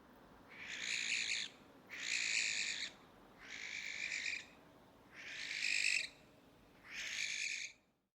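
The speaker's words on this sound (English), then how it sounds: "The barn owl makes many sounds" A barn owl gives five harsh, drawn-out screeching calls, each about a second long, spaced evenly with short gaps, moderately loud over a faint low background rumble.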